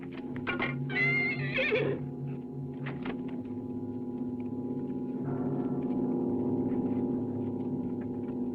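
A horse whinnies loudly at the start, followed by a couple of shorter snorts and calls, over a steady low hum in the background.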